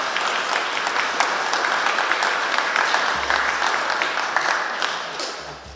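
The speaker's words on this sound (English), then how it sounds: "Go on, you can give them a round of applause." A church congregation at an Advent service applauds, steady dense clapping that holds for several seconds before starting to taper off near the end.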